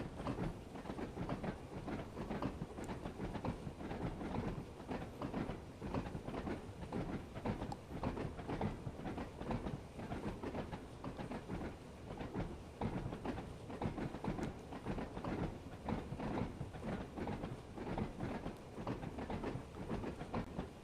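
Train coasting on an Isle of Wight line in Train Sim World, a faint steady rumble with rhythmic rail clatter running continuously throughout.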